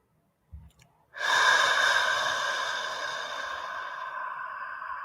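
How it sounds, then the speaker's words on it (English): Soft deep breathing from a breathing exercise opens with a faint breathy onset, then a long, loud, steady airy exhale that thins out slowly toward the end, with no talking over it. "let's do our breath, rehearsal breath, and real breath too"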